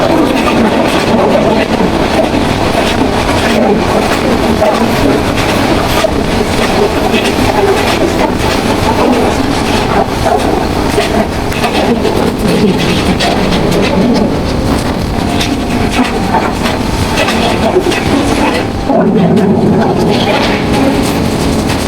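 Passenger train running on rails between Comilla and Brahmanbaria in Bangladesh, a steady loud rumble with faint clickety-clack throughout, heard from inside the moving carriage with birds faintly audible.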